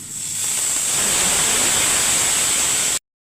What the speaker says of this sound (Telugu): దోసకాయ పచ్చడికి కావాల్సినవి నూనెలో వేయించుకుంటున్నాను